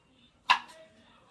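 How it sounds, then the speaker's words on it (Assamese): A single sharp knife chop on okra cut for frying, one crisp close knock followed by a faint short tap and quiet room tone. "আমাৰ ভেন্দি কাটি আছে"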